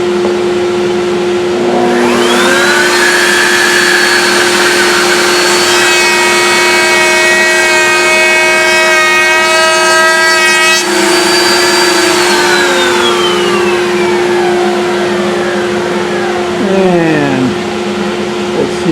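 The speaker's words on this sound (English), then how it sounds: "So now we're going to add that 3/8 bullnose onto the ends of these boards so they'll match the mortises." A router table spinning up with a 3/8 bullnose bit, rounding the ends of wooden boards: a loud, steady motor whine with rising harmonic tones through the middle cut, then spinning down and fading near the end.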